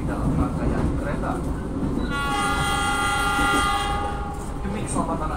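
A Cikuray passenger train rumbles steadily along the rails while its horn sounds a long, loud sustained blast through the middle, with onboard ambience and a faint voice in the background.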